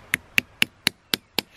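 Six sharp, evenly spaced hammer taps drive a metal sap tap into a frozen maple tree, each knock crisp and fairly close, with quiet pauses between strikes.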